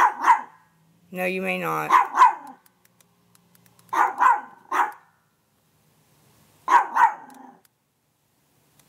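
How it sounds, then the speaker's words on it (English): A small chihuahua indoors gives short, sharp barks in clustered bursts of two or three, with gaps of quiet between; a person speaks briefly among the barks. "The dog is barking at somebody in the hall"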